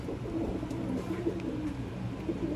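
Sialkoti rooftop pigeons coo in soft, low, repeated warbles at close range over a steady background hum.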